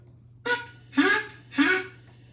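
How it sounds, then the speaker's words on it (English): Three loud, honking squawks from a flamingo at a zoo, evenly spaced about half a second apart over a low steady hum. "This is a flamingo. It is a beautiful bird. They are very noisy and go squawk,"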